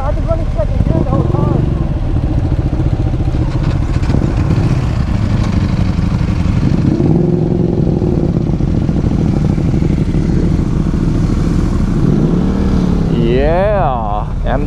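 A Ducati motorcycle rides in second gear on a road trip, its engine droning loud and constant with wind rush throughout, while riders talk over the noise and a whining pitch sweep rises near the end.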